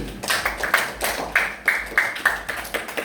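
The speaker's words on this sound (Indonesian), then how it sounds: "Tepuk tangan untuk Bapak Putri." Scattered applause from a small classroom group, uneven bursts of hand claps that come and go over a few seconds, close and moderately loud.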